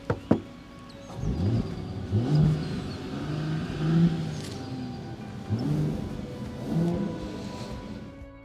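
A Mercedes GLE 450 V6 petrol SUV engine revs up several times, rising and falling in pitch with a throaty growl after a couple of sharp clicks at the start.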